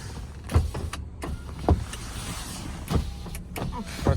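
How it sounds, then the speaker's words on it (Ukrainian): Power windows on a used Hyundai Tucson 2.0 whirring in repeated short bursts of electric motor hum inside the car, each run ending in a soft thump, with quiet cabin background and no talking. "Склопідйомники."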